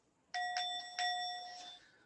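A meditation bell rings during a zazen sitting, struck twice in quick succession, each strike a bright ringing tone with clear overtones that decays steadily, close and alone against a quiet room.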